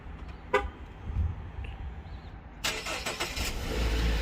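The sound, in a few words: car remote start beep and engine starting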